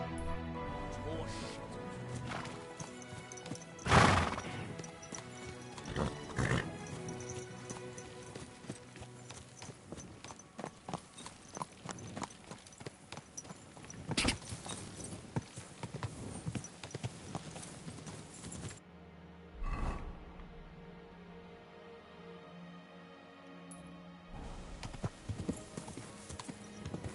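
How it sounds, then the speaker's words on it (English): Horse hooves clip-clop steadily in the medieval game Kingdom Come: Deliverance II, a close rhythmic trot running under game music and ambience, with one sharp neigh near the start and a brief quiet gap later on. "Horse"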